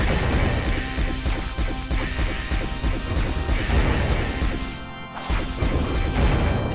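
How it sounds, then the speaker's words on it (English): A magic wand firing at enemies in the Heretic video game, a dense run of crashing, thwacking shots over loud game noise, with a brief dip near the end. "It's just a wand that shoots little pew-pew noises or whatever."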